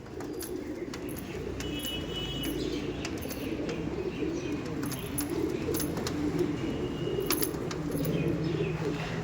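Andhra pigeons cooing in a loft, soft repeated low coos under a constant background murmur, with occasional sharper chirps and brief wing flutters.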